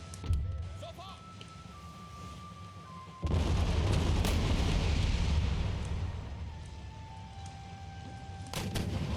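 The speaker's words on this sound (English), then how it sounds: "All our guns are prepared. Alright, fire at the barrage." An artillery barrage fires in the Empire: Total War game, a sudden heavy rumble of cannon booms rolling on for several seconds at moderate distance, with game tones and quieter background before it.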